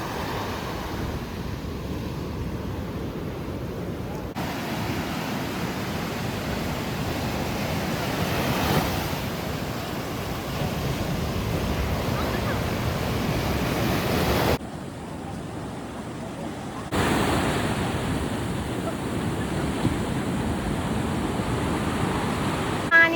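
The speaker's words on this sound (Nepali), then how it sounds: "यो बीच इज सो गुड।" Ocean surf washes onto a beach at Nusa Penida, a steady broadband roar of breaking waves with wind buffeting the microphone, continuous throughout with a few abrupt shifts in level.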